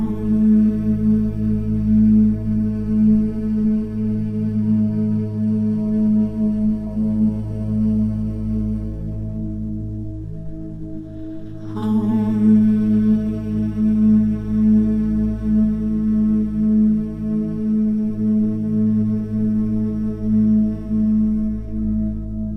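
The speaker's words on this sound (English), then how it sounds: "I found this beautiful resource that guides the humming for you." Guided humming track for relaxation: a sustained, steady low drone with layered harmonics that carries on continuously, pausing briefly about halfway before resuming at similar strength, with no speech over it.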